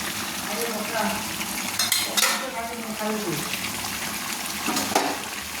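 Mutton and spices are stirred in a pan with a steady sizzle and scraping strokes of a utensil, with light clattering, close and moderately loud.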